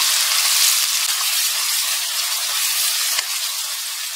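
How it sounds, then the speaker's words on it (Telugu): Vegetables for rava kichadi fry on high gas as they are stirred in a pan, giving a dense, even hiss close by with a single soft knock near the end. "ఈ వెజిటేబుల్స్ నేను ఒక 3 నిమిషాలు గ్యాస్ హైలోనే కలబెట్టుకుంటూ మంచిగా వేగనిచ్చానండి"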